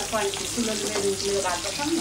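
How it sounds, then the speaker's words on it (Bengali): Koi fish, or climbing perch, frying in a pan gives a continuous close sizzle with bubbling crackle, while faint tonal background sounds run underneath. "আবার কই মাছ ভাজা হইতে আছে, কিছুক্ষণ ভাজা হইবে আরো"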